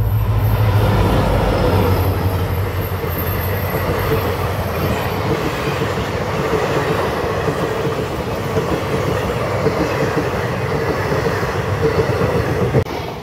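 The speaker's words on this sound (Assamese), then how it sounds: "এনেকুৱাতে ট্ৰেইন এখন আহিছে" A train rolls past steadily and close at Golaghat, with loud continuous rumble and rhythmic wheel clatter on the rails for the whole stretch, and no talk over it.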